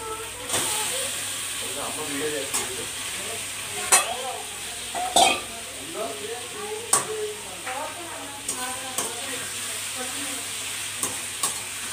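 Chicken pieces hitting a pan of already-fried onions, hissing and sizzling steadily while a spoon scrapes and clacks against the pan in irregular bursts throughout.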